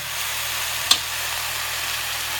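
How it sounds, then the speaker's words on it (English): Steady broadband sizzle of pot roast meat searing in a pan, with one sharp pop near the start standing out against the constant hiss. "You kind of hear that meat still searing and popping."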